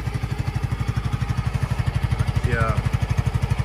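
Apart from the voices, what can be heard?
new motorcycle engine running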